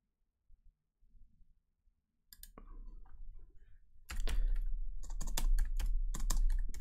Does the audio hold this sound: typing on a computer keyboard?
yes